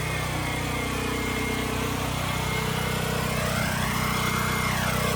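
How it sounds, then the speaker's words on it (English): Generator droning at an engine and tractor show, a loud, steady, close engine hum with a constant low rumble and no pauses. "Sorry about the generator noise."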